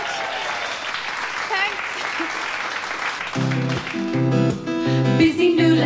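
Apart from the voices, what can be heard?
audience clapping and applause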